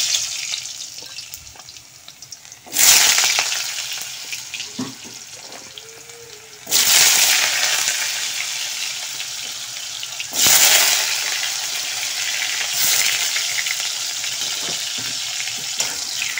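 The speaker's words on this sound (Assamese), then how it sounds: "আলুখিনি ভাজি কৰি লৈছোঁ তেলত দি কিনে।" Potatoes fry in hot oil, giving a continuous sizzle that flares loudly several times as the pieces are turned, then settles back to a steady crackle, with no talk.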